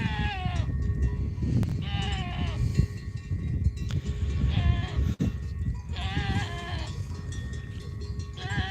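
Goat herd drinking at a mountain pool, bleating in scattered, overlapping calls, some near and some farther off, over a steady outdoor background.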